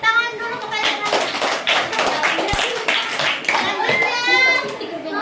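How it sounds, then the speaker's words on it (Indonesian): Schoolchildren applaud in a classroom, a dense, steady patter of many small hands clapping throughout, with children's voices chattering and calling over it. "beri tepuk tangan dulu kepada teman-teman."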